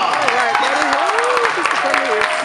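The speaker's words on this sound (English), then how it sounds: "Give him a round of applause." A crowd applauds with dense clapping while a voice speaks over it near the microphone.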